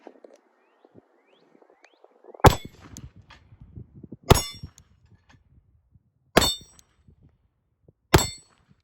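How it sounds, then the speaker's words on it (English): Four sharp, loud pistol shots fired at a tree from an Arex Delta M with a red dot sight, spaced roughly two seconds apart, each with a brief crack and short decay, quiet rustling between. "Let's shoot more of that tree."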